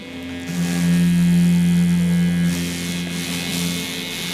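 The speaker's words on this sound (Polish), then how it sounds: "Włączamy potwierdzając głównym przyciskiem i nasza szczoteczka zaczyna pracować." A Medivon Pearl sonic toothbrush switches on and runs with a loud, steady buzzing hum that shifts slightly partway through.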